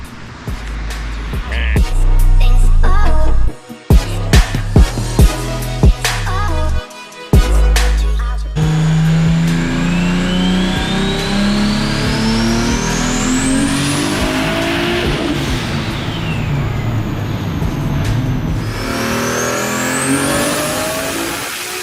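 A loud, high-revving tuned turbocharged right-hand-drive Mk4 Toyota Supra engine runs hard on a dyno, climbing repeatedly through its range, with a few sharp cutoffs early on, then a long steady pull near and continuous.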